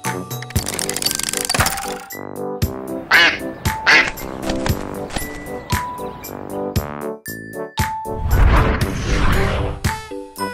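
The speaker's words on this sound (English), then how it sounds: "Duck!" A cartoon-style duck quacks in a busy children's alphabet sequence, with several sharp quacks among bouncy boing effects, crashes and other loud, punchy sound effects.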